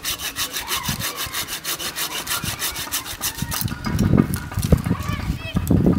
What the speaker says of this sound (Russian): Спиливаем прямо.